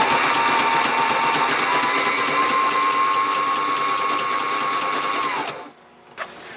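A sewing machine stitches fabric pieces together in a fast, steady, close whir for about five seconds, then stops abruptly, leaving near silence and a brief small knock.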